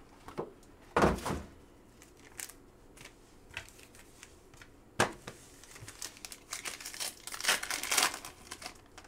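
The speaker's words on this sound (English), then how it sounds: "Rip the packs first." Foil trading card packs, Chrome Black baseball cards, being torn open by hand during a group break: bursts of crinkling and ripping with quieter rustling and card shuffling between, fairly close and with no talking.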